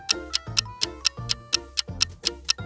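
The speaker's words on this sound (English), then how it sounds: "Do you hear that ticking sound?" A bomb ticks in a Roblox video game, a steady, loud, evenly spaced tick-tock repeating about every quarter second with no voices over it.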